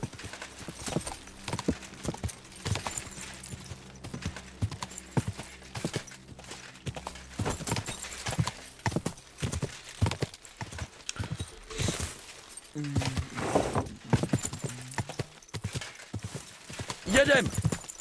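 Horse hooves clip-clopping at a gallop in the medieval game Kingdom Come Deliverance 2, a steady rapid rhythm with an occasional whinny, heard beneath someone talking excitedly throughout.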